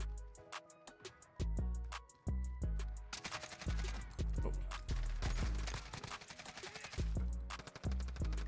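Bursts of AK-47 automatic gunfire in the video game Modern Warfare, loud close rapid shots in several sustained strings separated by short pauses.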